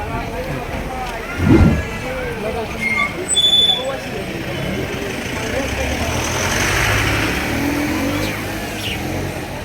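Trucks and other heavy vehicles rumble past a roadside procession, engines droning near and far with a brief horn-like tone and louder swells as they go by, while people talk nearby.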